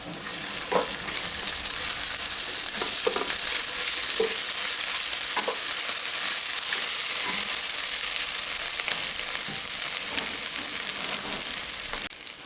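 Garlic, ginger and chili pastes frying in hot oil for a dum chicken dish, a loud continuous close sizzle broken by repeated spoon strokes and scrapes as the mixture is stirred.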